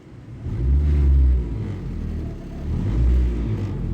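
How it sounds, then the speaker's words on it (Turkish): A Renault Twingo mk1 engine revs while parked, rising in two throaty swells with a rumbling idle between them, close and loud. "Sadece gaz veriyorum olduğum yerde."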